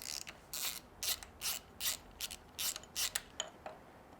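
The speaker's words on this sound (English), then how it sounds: "use the wrench to move the camshaft, leaving everything else in place" A wrench works the camshaft of a Ferrari F355 engine, giving a series of quiet ratcheting clicks in short bursts, close and isolated with no talk.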